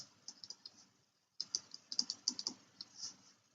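Short run of computer keyboard typing while writing out a maths question, with crisp close key clicks in quick bursts and a brief pause partway through, with no voices.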